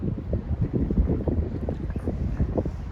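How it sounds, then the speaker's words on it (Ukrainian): Strong gusty wind buffets the microphone at an outdoor youth football match, with a constant low roar and rumble, no voices present. "Дує сильний вітер, але воно нам не завадить."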